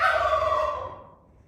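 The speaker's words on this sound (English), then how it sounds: "Of these Narragansett turkeys." A Narragansett turkey gobble, loud and close, a rapid warbling rattle that trails off over about a second.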